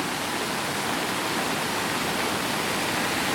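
The swollen Trebuščica stream rushes in flood, a steady, dense roar of turbulent water filling the whole clip with no pauses or voices.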